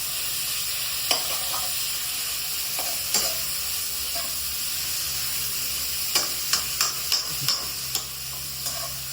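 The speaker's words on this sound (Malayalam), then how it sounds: "സവാള വാട്ടിയെടുക്കാന്ന് വെച്ചാൽ സമയം എടുക്കും" Sliced onions softening slowly in a pan for a duck curry, with a steady low sizzle beneath scattered spoon scrapes and clicks, more frequent toward the end, no voices.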